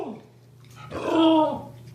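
A dog reacts to other dogs and cats shown on TV, giving a brief low growling whine that swells in the second half over a steady background hum.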